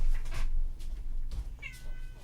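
A house cat meows several times indoors, short plaintive calls close to the microphone, the last one rising and drawn out, with no talking over them.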